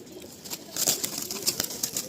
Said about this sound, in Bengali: এই হলো সেই টিক্কি জেনারেশনের পায়রা